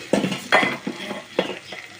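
Shredded cabbage frying in a pan is stirred with a utensil, giving a few distinct scraping, clinking strokes against the metal over a soft sizzle, with no talking.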